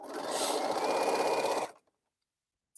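One steady run of a nearby sewing machine joins quilting fabric pieces for under two seconds, then stops abruptly into silence.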